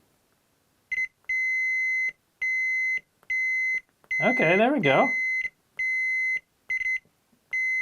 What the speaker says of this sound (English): my meter should beep when I press the button.